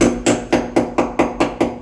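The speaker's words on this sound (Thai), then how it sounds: "ตอกตะปูแล้วครับ" Nails are driven with a hammer during bathroom tile work, about eight close, loud, evenly spaced blows in quick succession.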